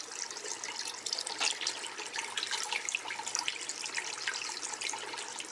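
Water drains steadily while a turtle tank with a sand bed is siphoned out, a continuous close rushing and trickling flow with no pauses and no talk.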